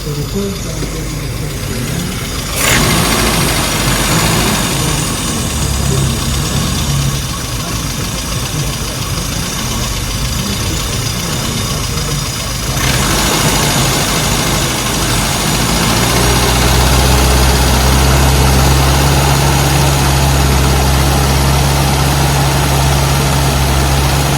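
A classic car engine running during an ignition timing check across the rev range, a loud, close, steady drone that steps up in pitch and intensity twice as the revs rise and hold.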